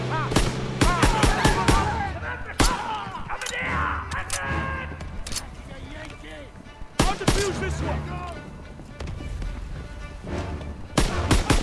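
Gunfire and explosive bangs in a Call of Duty WW2 battle on the Rhine, sharp repeated shots in irregular bursts with heavy booms, mixed with shouting voices and game dialogue throughout.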